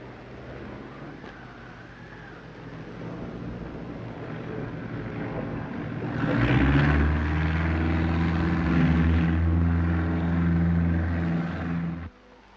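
A small propeller plane on a snowy Alpine slope in cold weather drones faintly at first, then its engine swells into a louder, steady close hum before cutting off abruptly at the end.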